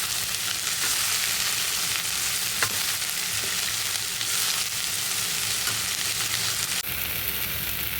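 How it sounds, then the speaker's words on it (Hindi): Potatoes, green garlic and green chillies frying in a kadhai on high heat, a loud continuous sizzle with occasional stirring scrapes, alone without talk. "अब इसको मिक्स कर देते हैं और दोबारा से 3 से 4 मिनट इसको इसी तरीके से हाई हीट पर हम पकाएंगे"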